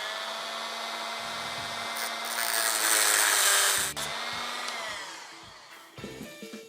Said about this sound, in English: For this I'm using the Dremel again.